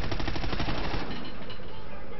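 Gunfire in the Call of Duty Ghosts campaign, a loud, dense, continuous burst of rapid automatic shots running throughout, close and unbroken.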